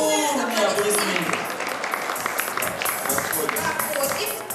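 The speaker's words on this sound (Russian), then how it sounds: "Огромные аплодисменты." Guests at a New Year's ball in Udachny applaud in a continuous patter of clapping, with a voice talking over it at the start.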